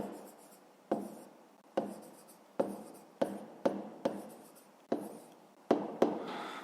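A pen writes numbers by hand on paper, a series of quiet, close strokes, each starting with a sharp tap and trailing off, repeating at an uneven pace.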